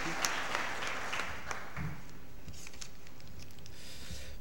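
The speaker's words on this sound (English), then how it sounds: "Let's give her a round of applause before we can." A room at a city council meeting breaks into a round of applause, a moderate, fairly distant patter of many hands that fades after a couple of seconds into scattered claps.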